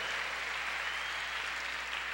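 Church congregation applauding the Lord during a worship service, a steady dense wash of clapping held at even strength throughout without pause or voices standing out.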